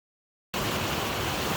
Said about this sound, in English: It's quite noisy because the waterfall's right behind me